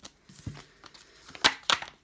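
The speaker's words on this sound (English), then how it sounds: "As I'm just shuffling the masculine cards back in" Tarot cards are shuffled close up with soft papery riffles and several sharper slaps and flicks.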